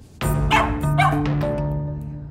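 A dog lets out a loud run of close yelping barks that slide into drawn-out whimpering whines, with tonal, pleading cries trailing off toward the end.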